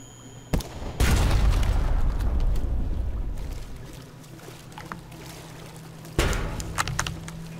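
Deck gun on a ship in Sunless Sea fires two heavy booms several seconds apart, each with a rumbling decay, over a low steady engine hum and faint splashing water.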